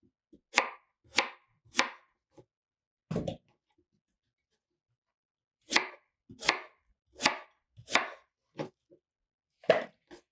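A knife chops through yam on a cutting board in sharp, distinct thuds, first in a quick run of four or five, then a pause, then another irregular series, close and clear in an otherwise quiet room.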